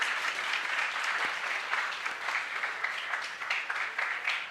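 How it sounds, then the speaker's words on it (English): Sustained audience applause fills a hall at an education conclave felicitation ceremony. The clapping stays even and fairly loud throughout, with no speech over it. "Ladies and gentlemen, a round of applause."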